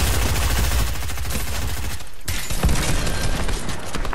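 Dense, loud gunshots from Fortnite, rapid shots firing almost continuously with a brief break partway through, close and in front with almost no talking.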